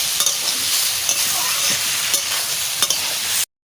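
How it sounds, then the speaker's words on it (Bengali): Ground spices stirred and fried in a pan for a vegetarian curry with papaya and soybean, a steady close sizzle with scraping stirs throughout, no talking, ending abruptly in silence. "মশলাটা ভালো করে কষানি হবে"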